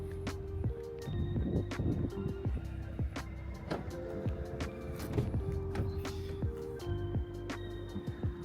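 The electric retractable rear spoiler on a Mazda 6e extends with a thin motor whine and a string of small mechanical ticks and clicks, heard close and fairly quiet for about eight seconds.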